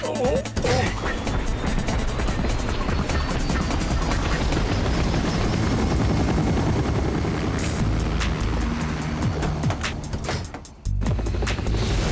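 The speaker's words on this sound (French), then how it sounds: "Montez dans l'hélicoptère." A cartoon helicopter in an animated spy series roars loud and continuous throughout, a dense rotor-and-engine wash with crashing impacts and sharp rhythmic thwacks toward the end, briefly dropping out near the close.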